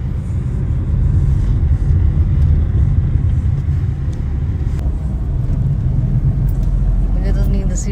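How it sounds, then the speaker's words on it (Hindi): A car drives along a mountain road near Bhimtal, a steady low engine and road rumble running through the whole stretch with faint higher rattles over it. "देखो हम हमारे पहाड़ों पे गाड़ी चल रही है।"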